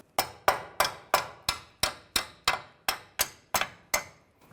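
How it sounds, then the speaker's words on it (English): A hammer strikes a front lower control arm on a 2011-2017 Nissan Juke about a dozen times in a steady, even rhythm, each sharp metallic tap close and distinct. "I'll just use a hammer."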